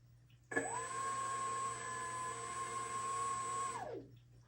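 Electric motor of an FMS Viper RC jet spooling up as the throttle is raised, a steady high whine that starts abruptly, holds level for about three seconds, then winds down, heard up close with no talking.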